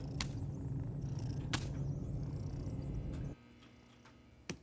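A cat purrs in the horror game Broken Veil, a soft continuous rumble close by for about three seconds before it cuts off, with a few faint ticks, no talking.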